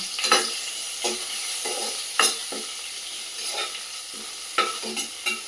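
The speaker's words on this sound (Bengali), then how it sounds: "আর দিয়ে নাড়াচাড়া করে নিলাম একটুখানি" Bay leaf, cardamom, cinnamon and other whole spices frying in a pan, stirred with a spoon: a steady sizzle carries through, broken by several sharp scraping clacks against the metal at an uneven pace, fairly close and with no voices.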